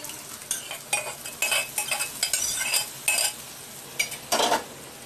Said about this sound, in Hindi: इसमें हम दाल डालेंगे।